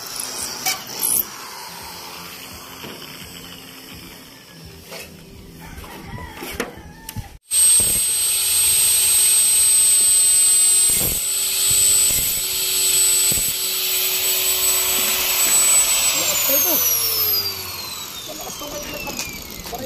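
An angle grinder sharpening a blade runs as a loud, steady whine that starts abruptly partway through and holds with slight wavering, after quieter background noise.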